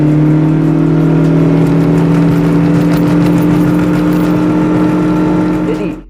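Car with a CVT transmission accelerating noisily, giving a loud, steady droning engine hum with strong sustained tones that hold an even pitch rather than stepping through gears, continuous for several seconds.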